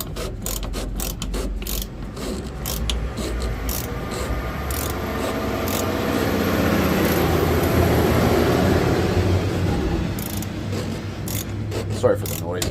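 Roadside traffic beside a 2024 Ram 3500 diesel under repair swells into a broad roar as a vehicle passes, then fades, while sharp ratchet clicks from nearby work sound over the top.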